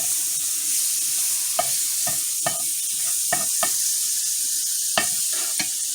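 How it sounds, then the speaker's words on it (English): A pat of butter sizzling in a hot cast iron skillet with the burner off, a steady soft hiss broken by several sharp clicks and scrapes of a utensil against the pan, close and alone without talk. "I'm going to add a pat of butter in the pan to fry the next pancake"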